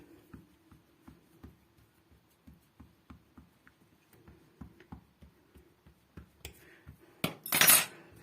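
Light, repeated tapping and pressing of a fork crimping the edges of chebureki pastry dough, a steady rhythm of small clicks close by, ending in a brief louder rustle.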